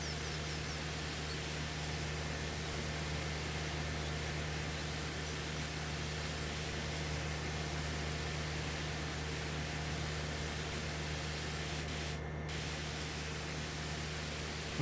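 Constant hissing spray of a pressure washer cleaning down a vehicle in Farming Simulator 25, a flat, unbroken rush with a low steady hum beneath, running alone and evenly throughout.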